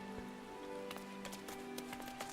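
Steady rain patters across surfaces in the Final Fantasy XIV game world, a faint, even hiss with scattered droplet ticks.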